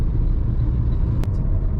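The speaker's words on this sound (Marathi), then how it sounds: "80-90च्या स्पीडने आपण ड्राईव्ह करतोय आणि AC आपला ऑनच आहे." A 2025 Maruti Victoris VXI CNG car cruises at 80-90 km/h on a highway with the AC on, giving a steady, loud low road and engine rumble that holds without a break.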